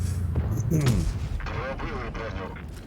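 A deep booming tank cannon shot in a video game and its rumble, followed by engine noise, with a voice talking over it.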